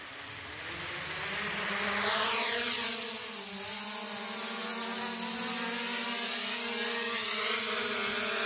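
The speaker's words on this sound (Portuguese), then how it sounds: "E o nosso drone tá rodando" A Hubsan H501S quadcopter drone hums with a steady buzzing whine of its rotors nearby, swelling and easing slightly as it flies, with no voices.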